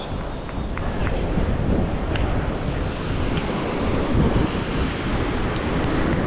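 Surf and gusting wind roar steadily across a beach in front of the Portal Maya at Playa del Carmen, loud and continuous, with heavy wind buffeting on the mic.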